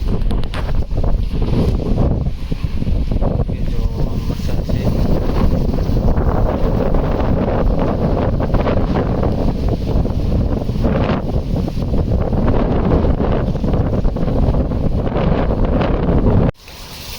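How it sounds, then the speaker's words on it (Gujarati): Strong wind on a rooftop buffets the microphone in a constant loud roar for most of the clip, then cuts off abruptly near the end. "બહુ માથે પવન છે."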